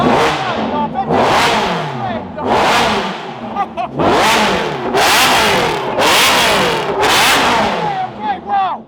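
A Ferrari supercar engine revs hard several times in a row, each loud, close rise in pitch falling away before the next, with people talking over it.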